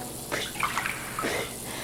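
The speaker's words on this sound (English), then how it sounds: "Take some water in your hand, rinse your mouth and let it land." Water splashes and trickles in short bursts, as if poured from a tap and rinsed through a hand, fairly close and moderately loud, with brief pauses between gushes.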